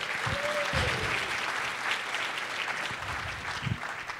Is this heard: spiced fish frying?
no